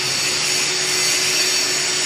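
A TIG welder runs at 140 amps, feeding 1.6 carbon steel wire with a 3.2 laminated tungsten electrode, producing a loud, steady, unbroken hiss and hum with no pauses.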